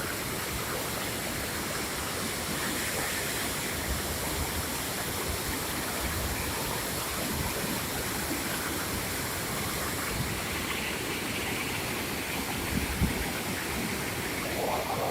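A rushing mountain stream on the Hemkunt Sahib trek in Uttarakhand, swollen after a day of rising water, roars steadily and loudly in a dense, unbroken wash of noise throughout.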